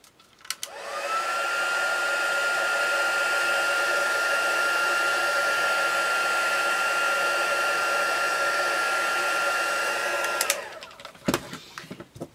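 A hair dryer blows steadily for about ten seconds to dry a layer of modeling paste texture, a loud even whoosh that starts and stops abruptly and has faint clicks and handling noise around it.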